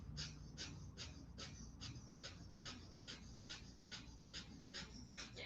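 A person does breath-of-fire breathing, short sharp exhales paired with quick inhales in a steady rapid rhythm of about a dozen cycles, close to the microphone over low background rumble.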